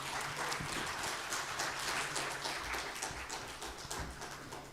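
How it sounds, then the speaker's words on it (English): Applause from a conference audience at an international concrete innovations event, dense steady clapping heard from a distance that carries on for several seconds with a low hum beneath it. "Give him a big round of applause,"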